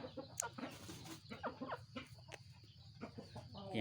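A ten-month-old fighting rooster clucks and vocalizes close by in a series of short, uneven bursts over a noisy background.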